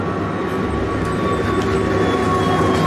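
Unmanned runaway freight train 777 with its air brakes not set rolls on without control, a steady, heavy rumble with a droning metallic hum, continuous and close throughout.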